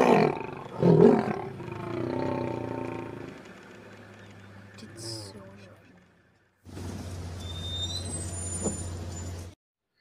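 A deep, rumbling lion roar rises and fades, followed by quieter growls and a steady low rumble with faint chirps.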